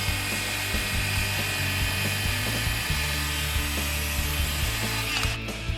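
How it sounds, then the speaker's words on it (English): A RIDGID 18V OCTANE SDS-Plus rotary hammer in regular drill mode bores through a treated 4x4, giving a steady close, loud grinding whir with rattling texture that cuts off near the end. "we're going to put this on regular drill mode and go through a treated 4x4"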